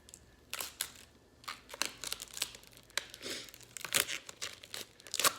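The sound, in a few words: peeling a sticker off a makeup palette mirror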